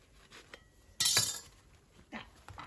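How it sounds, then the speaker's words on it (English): A knife saws through crusty telera bread rolls on a board, giving one loud crackling burst of crust and blade followed by softer scraping strokes, with a few faint clinks of utensils around it. "go ahead and cut your teleras all the way through"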